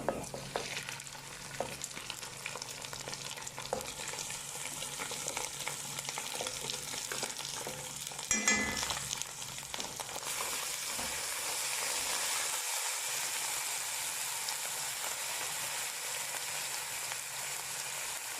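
Minced meat (keema) sizzles and fries in a pan with golden onions, a steady close hiss with occasional stirring scrapes throughout.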